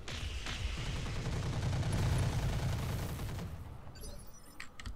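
Gunfire from the tactical video game Roguepoint, a dense rumbling burst of rapid shots that swells for about three seconds and then fades, leaving faint trailing sounds.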